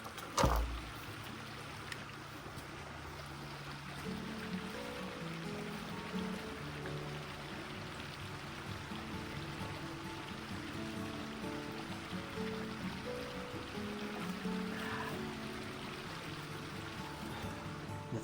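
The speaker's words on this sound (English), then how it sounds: "The flow of the creek is really beautiful." Creek water flows and trickles continuously at a soft, even level, with a single sharp knock at the start. Blackwater Creek, central Florida.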